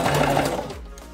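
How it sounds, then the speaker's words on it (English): A sewing machine stitches a fabric necklace in a short steady mechanical whir that stops abruptly, heard close and on its own. "you can use a sewing machine"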